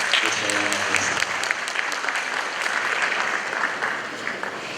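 A crowd applauds steadily at the Supreme Court's 150th anniversary ceremony, a dense, even clapping that holds for the whole stretch, with a voice briefly audible at the start.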